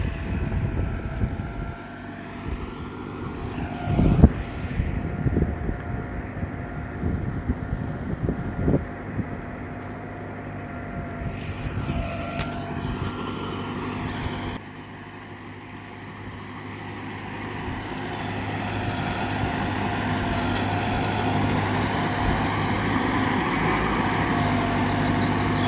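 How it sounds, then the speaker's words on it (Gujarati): A large tractor drags a heavy harrow through farm soil, turning the ground about a foot deep as its tyres spin. A steady, close engine drone runs throughout, with wind buffeting and a few knocks early on. "ટાયર ફરી જાય, આવડું મોટું ટ્રેક્ટર છે તોય."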